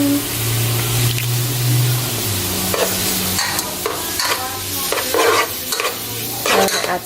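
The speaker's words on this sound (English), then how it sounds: "Meat is nicely chopped up. Now I'm gonna start cooking it. Fire on." Chopped meat sizzles and crackles as it begins frying in a hot pan, with scraping stir sounds at irregular intervals over a steady sizzle.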